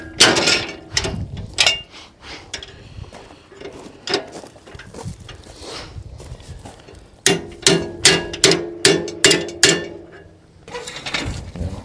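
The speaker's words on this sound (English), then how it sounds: "you can put the wrench around the head and then hammer the wrench" Repeated sharp metallic clanks from a hammer striking a 3/4 inch wrench on a bolt head, irregular at first, then a quick steady run of strikes near the end.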